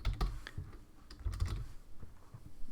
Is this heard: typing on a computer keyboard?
yes